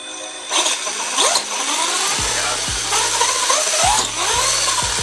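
The motor of an Axial SMT10 RC monster truck revs in short bursts with its tires spinning freely in the air, giving a high electric whine that rises and falls several times, close and loud.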